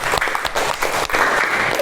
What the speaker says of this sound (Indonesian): Beri tepuk tangan untuk Mbak Novia